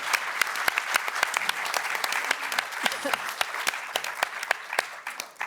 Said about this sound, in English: Can we make some noise for Stephen